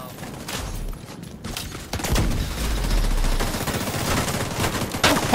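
Heavy gunfire in a video game, with rapid bursts of shots and sharp cracks piling up into a continuous loud fusillade of overlapping impacts close by.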